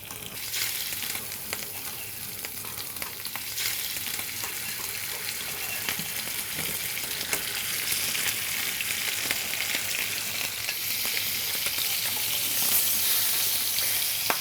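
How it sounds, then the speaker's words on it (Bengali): Marinated snakehead fish, rubbed with turmeric, chili powder and salt, frying in a pan with a loud, steady, continuous sizzle that holds from start to end with no talking. "শোল মাছ মাখানোটা দিয়ে দিচ্ছি"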